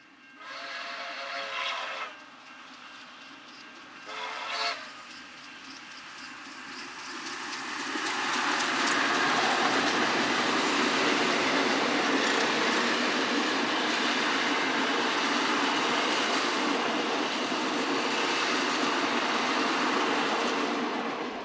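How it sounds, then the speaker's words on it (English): Steam rail excursion hauled by locomotives R711 and S313 heading back to Melbourne at Clarkfield: two whistle blasts at the start, then the loud, close roar of the train rumbling past for the rest of the clip, with no talk. "I caught the steam rail excursion heading back to Melbourne at Clarkfield with R711 and S313."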